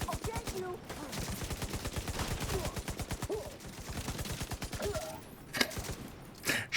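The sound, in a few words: gunshots from a video game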